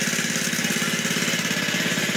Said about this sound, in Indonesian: kita hanya menggunakan mesin yang 5 PK